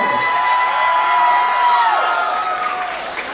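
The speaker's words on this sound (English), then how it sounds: "Let's make some noise one more time for Pretty Empowered" A crowd at a pro wrestling show in Scottsboro, Alabama, claps and cheers steadily and loudly throughout, with whoops and shouts on top. A faint whistle-like tone runs through the noise.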